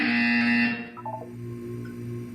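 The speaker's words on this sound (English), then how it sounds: "You will hear a buzzer." A loud, steady electronic buzzer tone from Portal 2 sounds for under a second, then cuts off, leaving a low hum and faint chimes.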